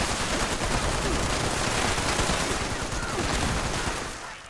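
Video game gunfire in a post-apocalyptic wasteland setting. A dense, continuous burst of rapid automatic shots fills the whole stretch, loud and close, and fades slightly at the end.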